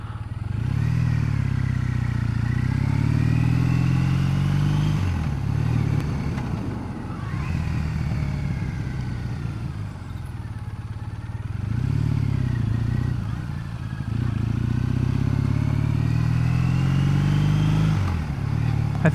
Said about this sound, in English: I like the exhaust note. It's low, rumbly,